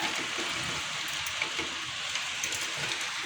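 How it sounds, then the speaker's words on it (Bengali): Steady rain hissing and pattering across the whole stretch, an even broadband wash with a few brighter drops, no voices. "পুকু বৃষ্টি বৃষ্টি অনেক বেশি"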